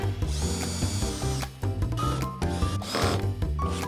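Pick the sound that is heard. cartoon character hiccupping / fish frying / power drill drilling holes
power drill drilling holes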